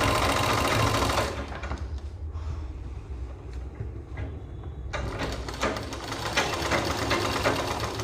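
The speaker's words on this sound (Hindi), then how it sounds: "तो यहाँ पर हम इसी तरीके से सिलाई को आगे तक कंप्लीट कर लेंगे।" A sewing machine stitches a suit in rapid, loud bursts that halt briefly and then resume, leaving a quieter hum in the gap, with no talking.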